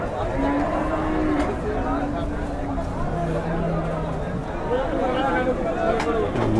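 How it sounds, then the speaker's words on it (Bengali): Cattle low repeatedly in long drawn-out moos over a dense background of crowd chatter and livestock noise at the busy Deohata cattle and goat market, Mirzapur, Tangail, Bangladesh. "অনেক বিশাল গরু"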